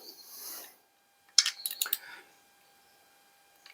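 Bolts on a DRZ400E engine being tightened in stages with a ratchet: a close cluster of quick clicks and metallic scrapes, separated by near silence.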